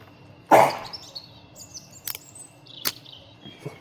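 A single sharp cough rings out near the start, followed by quieter scattered clicks and faint chirps in a hushed background.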